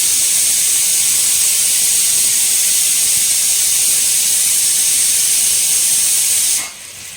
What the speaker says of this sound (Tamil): இந்த மீனை வந்து பார்த்தீங்கன்னா நம்ம பொரிச்சு எடுத்துக்கலாம்